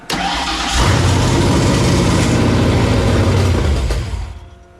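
A Ford Fox Body engine with a suspected vacuum leak or faulty carburetor cranks and catches, running loud and rough for several seconds with an uneven sputtering throb before it dies away near the end.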